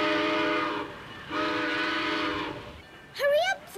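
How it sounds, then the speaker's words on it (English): Cartoon train pulling out of a station, two long sustained whistle blasts with a pause between, followed by a brief rising, wavering voice-like call at the end. "The train is pulling out."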